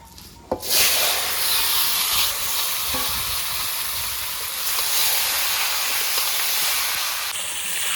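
A sudden loud sizzle as fried raw mango goes into hot oil with bay leaves and dried chillies for pickle, settling into a steady close frying hiss with occasional stirring scrapes.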